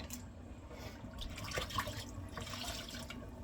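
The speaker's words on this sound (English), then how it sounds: "Okay, I'll let that water out." Water drains out of a kitchen sink with faint gurgling and dripping, soft and close, in a quiet room.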